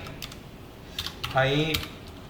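Someone types Python code on a computer keyboard, a short run of close key clicks with a brief voice sound partway through.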